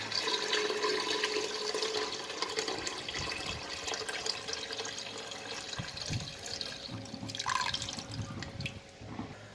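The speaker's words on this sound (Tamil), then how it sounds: "அந்த தண்ணி வந்து நான் இதோட இப்போ ஊற்றிக்கிறேன்" Water poured steadily into a cooking pot for basmati rice during mutton dum biryani preparation, a continuous close splashing and trickling stream lasting throughout with a brief louder gush near the end.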